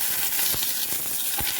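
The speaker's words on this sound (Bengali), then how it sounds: "বড়িগুলো এবার ভাজা হয়ে গেছে" Lentil dumplings (bori) frying in hot oil, a close, continuous bright sizzle with a few soft clinks and stirring knocks, over a short stretch without speech.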